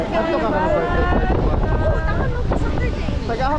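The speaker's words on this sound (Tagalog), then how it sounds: "May sarap ng hangin." Wind blows across the microphone outdoors at a street gathering in the Philippines, a steady low rumble beneath close, overlapping voices talking throughout.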